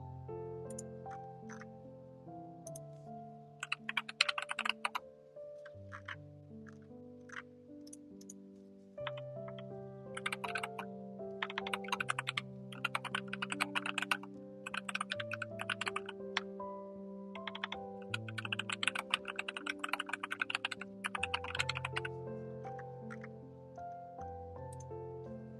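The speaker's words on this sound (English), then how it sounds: "Those keyboard sounds." Computer keyboard typing during a solo hackathon coding session: bursts of quick, crisp key clicks in uneven runs with short pauses, fairly close, over a soft background of music.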